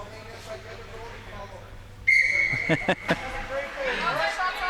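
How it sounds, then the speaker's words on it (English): A referee blows a sharp, bright whistle blast at a women's ice hockey grand final in the ACT, followed by a couple of short thuds and rink noise under a commentator's voice. "The ref's had enough of waiting. He's blown the whistle."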